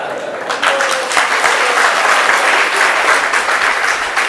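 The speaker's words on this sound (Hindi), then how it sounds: "आपने ताली इसलिए बजाई" An audience at a devotional lecture on the Srimad Bhagavatam applauding together, a dense, sustained burst of clapping that swells in quickly and continues loud and even.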